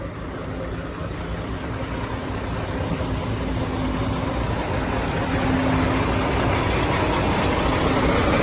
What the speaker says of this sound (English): Engine is running good.